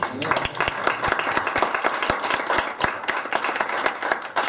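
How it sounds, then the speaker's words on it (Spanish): Audience applause after a talk, a loud, busy patter of many hands clapping with sharp individual claps standing out, continuous throughout. "O sea, un aplauso para él."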